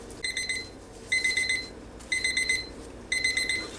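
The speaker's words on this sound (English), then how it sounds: "my timer just went off for 4 minutes" A kitchen timer going off during crabmeat rangoon cooking, four bursts of rapid, bright electronic beeping in an even on-off rhythm, fairly loud and close, with no talk.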